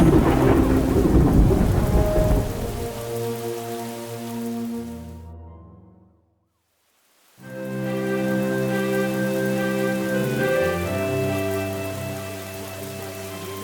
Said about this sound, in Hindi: बाहर हो रही तेज बरसात की आवाज इतनी गंभीर है कि टीवी देख पाना असंभव हो गया है।